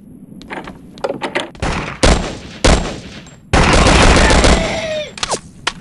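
Bursts of gunfire from a Vietnam War shooter game crack out in scattered single shots and short volleys, then a sustained automatic burst near the end, loud and close against a quiet background.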